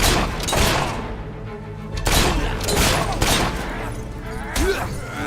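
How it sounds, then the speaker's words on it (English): Gunshots in Fable 3 ring out as several heavy bursts separated by short pauses, loud and close against a busy background with some voices. "That's my kind of shooting."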